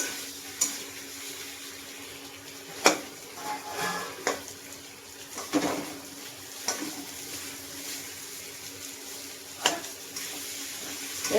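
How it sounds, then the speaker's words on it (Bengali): A curry being sautéed in a pan sizzles softly under a faint background hiss, broken by a handful of sharp scraping and clanking stirs at irregular intervals. "তরকারিটা কষিয়ে নেবো"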